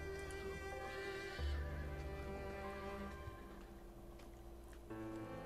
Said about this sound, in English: These black horses have red eyes.